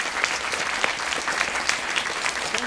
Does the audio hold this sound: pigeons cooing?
no